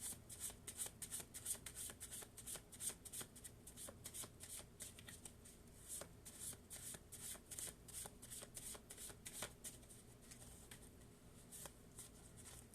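Tarot cards are shuffled over and over in a steady rapid riffle, close and soft, with a crisp pattering texture and no talk.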